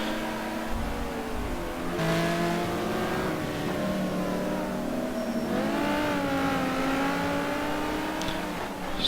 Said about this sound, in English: Marco with a huge slide